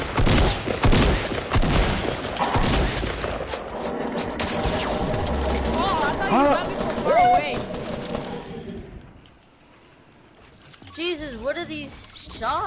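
Rapid video game gunfire bursts crackle loudly through the first half, mixed with excited players talking over them, then fade to a quieter stretch before more voices return.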